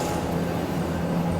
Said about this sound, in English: And the train has arrived.